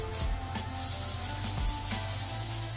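A hand rubs over the sanded surface of a model Formula racer body, giving soft, steady brushing friction at close range with a few faint knocks.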